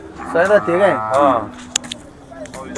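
Cattle mooing loudly and close by at a Khillar bull market in Sangola, a few long drawn-out moos in quick succession over a noisy outdoor background.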